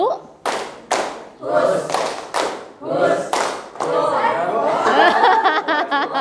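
A classroom of students claps in unison to a teacher's call, sharp loud claps in groups of two, two, then one, repeated, followed by a longer burst of scattered clapping and chatter.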